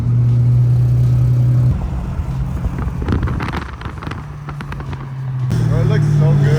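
A loud Nissan 350Z engine with an exhaust leak idles and revs with a rough, raspy exhaust note, accompanied by wind buffeting the microphone and voices talking briefly.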